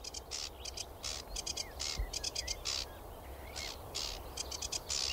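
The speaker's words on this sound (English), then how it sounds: "And a sedge warbler." A male sedge warbler sings at dawn in its territory, a busy, scratchy stream of chattering bursts and rapid trills repeated without pause, fairly faint over a low background rumble.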